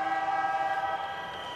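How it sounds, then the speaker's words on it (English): A loud steady horn blares at the end of a men's rugby sevens match between Russia and Wales in Hamilton, 2018, a single sustained tone that holds and then fades slightly. "Hooter sounds."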